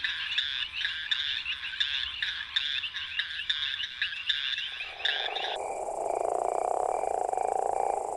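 A leopard toad calls with a loud, pulsing rattle of rapid trills, then shifts into a sustained snore-like drone. It is close and alone, with no voices.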